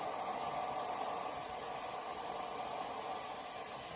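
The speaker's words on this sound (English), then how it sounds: "we're blowing off some steam" A loud, steady hiss of steam venting from a gas-fired live steam model locomotive blowing off steam, unbroken and close, with no talking.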